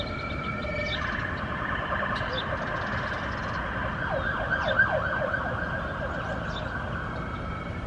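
An emergency vehicle siren wails in a steady, repeating electronic pattern, moderately loud over background noise, with no talking.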